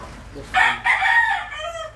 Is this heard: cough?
no